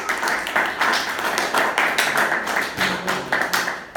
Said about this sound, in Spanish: Un aplauso para los panelistas,